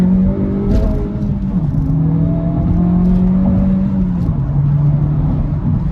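A 2024 Acura Integra Type S engine pulls steadily under load, its pitch rising and then dropping as the gears change, loud and close from inside the car.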